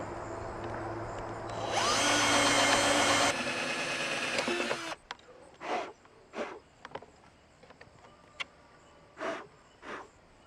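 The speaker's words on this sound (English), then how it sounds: "punch a hole through the panel here, put the wires through, go ahead and drill those out" A loud power drill whines steadily for a few seconds drilling holes in a portable solar generator's panel, then stops, followed by scattered clicks, taps and brief scraping bursts.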